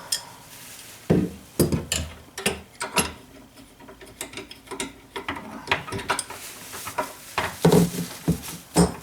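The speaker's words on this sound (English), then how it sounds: "you can undo this nut and get the lever off" A nut is worked loose to take the lever off a Kohler widespread bathroom sink faucet, giving irregular metallic clicks and ratchety taps that come in uneven bursts, faint and close with no talking.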